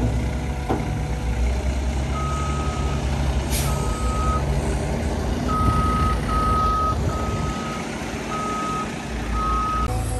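Reversing beeps from a new dump truck pulse in a steady, evenly spaced series over a low idling engine rumble, with a brief air brake hiss partway through, close and fairly loud.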